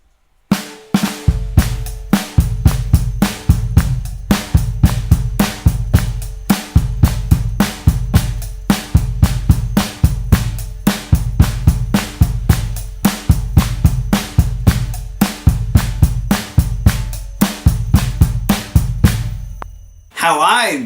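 A single drummer plays a drum kit with two grooves combined into one pattern, punchy kick and snare hits with cymbals in a tight steady rhythm, loud and close for about twenty seconds.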